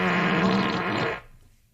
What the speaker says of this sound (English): Alexa, ask for a fart.